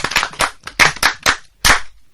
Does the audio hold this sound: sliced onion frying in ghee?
no